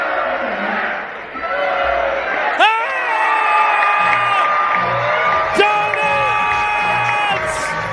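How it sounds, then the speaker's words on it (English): A packed, sold-out minor-league baseball crowd in Savannah whoops, cheers and shouts in rising waves, with sharp collective yells bursting out and a steady roar underneath. "Listen to that crowd."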